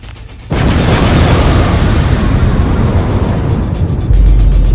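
A loud explosion bursts in suddenly and becomes a sustained, roaring rumble that swells again near the end, very close and overwhelming.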